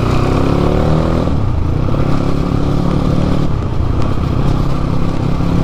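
A Crossfire dirt bike engine riding through a town, loud and close, with a steady growling drone that rises and falls as the throttle changes, plus rattling clatter throughout and no talking.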